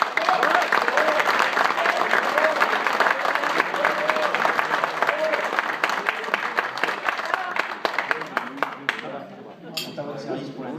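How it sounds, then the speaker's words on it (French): Audience applause after a thank-you to the production team at a French rugby analysis event, a sustained dense round of clapping with some crowd voices mixed in, fading and thinning out near the end. "Vous pouvez applaudir très fort."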